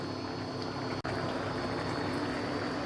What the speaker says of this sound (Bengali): আমার এই যে ডালটা এখন মনে হচ্ছে প্রায় সেদ্ধ হয়ে গেছে